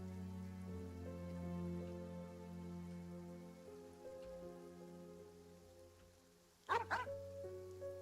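In Genshin Impact, a dog barks in a short burst of two or three quick yaps over steady rain and a droning, sustained musical backdrop.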